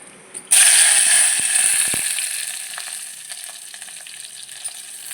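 Crushed garlic, green chilli and curry leaves hit hot oil with a sudden loud hiss that roars up, then slowly settles into a steady crackling sizzle, with a few faint spoon clicks, no voices.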